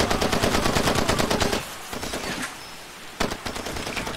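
Assault rifle firing in Far Cry 2, a loud rapid burst for over a second, a quieter lull, then another sharp burst near the end.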